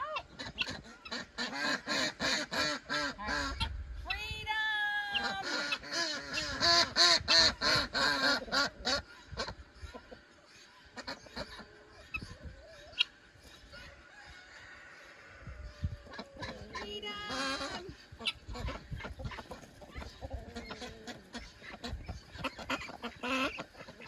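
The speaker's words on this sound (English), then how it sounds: "And this is General Peck, one of our 6 Anaconda Ducks." A flock of six Ancona ducks quacks repeatedly on a homestead, with loud bursts of overlapping quacks at close range, quieter stretches between them and other fowl calling.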